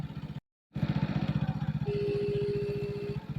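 A motorcycle engine idles with a steady rapid thumping, briefly cut out, then a high whine rises over the running engine nearby.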